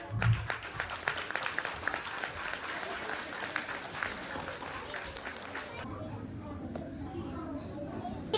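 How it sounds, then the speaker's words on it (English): A crowd claps in a dense, steady round of applause at an Ek Bharat Shreshtha Bharat event, fading to quieter background noise near the end. "Please welcome them with a big round of applause."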